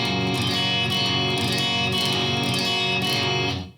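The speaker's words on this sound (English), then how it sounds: "If you pick all 6 strings, or if you do an upstroke with all 6 strings, it sounds like this." A guitar upstroke across all six strings rings out as one dense, sustained strummed chord, loud and close, ringing for about three and a half seconds before cutting off.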